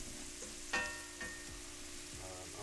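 Jägerschnitzel frying in a pan, a steady close sizzle with a few louder pops and spatters, quiet and without talking.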